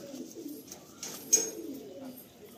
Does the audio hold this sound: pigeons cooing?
yes